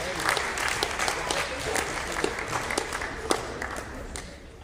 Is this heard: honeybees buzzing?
no